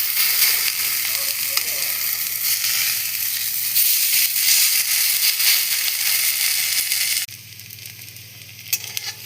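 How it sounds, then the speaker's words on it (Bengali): A potato fritter fries in a hot pan with a loud, continuous, crackling sizzle, which drops sharply to a quieter hiss near the end. "এটা এক পাশটা লাল লাল ভাজা হয়ে গেলে উল্টে দেবো।"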